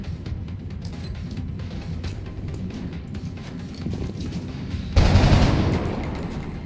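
Rapid gunfire in the strategy game XCOM: Enemy Unknown, a dense rattling burst running throughout and swelling into a louder, heavier volley near the end, with no voices over it.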